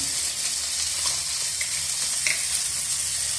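Chopped tomato, green chili and salt fry in hot oil, making a loud, close, continuous sizzle with occasional light stirring taps. No speech.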